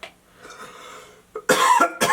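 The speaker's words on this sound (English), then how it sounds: "Cough unsettled some of the capsaicin." A person coughs hard several times after eating an extremely hot chocolate candy bar; a softer throaty sound comes first, then loud close bursts in the final half second.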